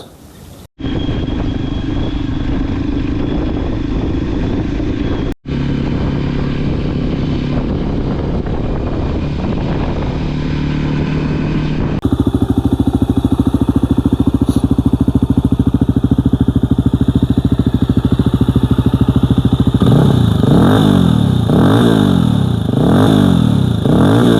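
A 2025 Voge Rally 300 motorcycle engine runs loud and close, shifting between steady running tones and rising, falling revs, with no talk over it.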